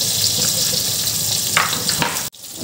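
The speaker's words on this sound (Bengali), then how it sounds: "তো এখন ভাজছি বেগুন" Eggplant slices fry in a pan of oil with a steady, close sizzle, brief scraping clatters near the end, and a sudden short cut-off before the hiss resumes.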